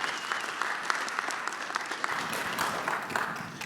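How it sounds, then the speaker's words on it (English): Audience clapping after speakers are introduced onto the stage at a hybrid cloud and FinOps conference session, a steady, dense wash of many hands heard alone and fairly close, with no voices over it. "let's give them a big round of applause."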